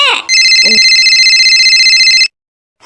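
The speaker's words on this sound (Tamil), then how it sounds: "இப்போ யார் ஃபோன் பண்ணுறா" A phone ringtone plays a loud, steady electronic ring with a pulsing, repeating pattern for about two seconds, preceded by a brief voice and then cutting off into silence.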